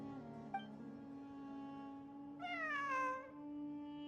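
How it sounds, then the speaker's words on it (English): A cat in the Genshin Impact video game gives a short chirp and then a clear, drawn-out meow over a steady low game hum, with no talk. "It really is a cat."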